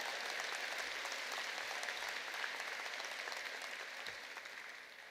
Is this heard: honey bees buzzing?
no